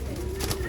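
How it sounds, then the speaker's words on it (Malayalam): A yellow-eyed pigeon in a loft gives a brief, soft coo, close and low, over faint background noise. "മഞ്ഞക്കണ്ണ് പ്രാവ്."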